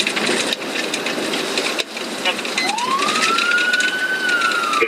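Police car siren from a dash camera during a chase, a rising wail that climbs and holds over loud road and engine noise, fairly close.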